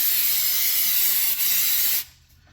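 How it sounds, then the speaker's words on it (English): Aerosol brake cleaner sprayed onto a Ford F250 brake caliper to wash off brake fluid, a loud close hiss with a brief break midway, stopping abruptly near the end. "We're going to spray all the brake fluid off."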